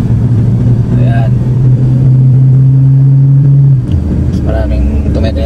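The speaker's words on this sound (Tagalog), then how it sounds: "maraming tumetera dito na sasakyan" Vehicle engine rumble on a mountain road in Oman, a steady low drone that shifts in pitch as traffic passes, with a voice talking over it throughout.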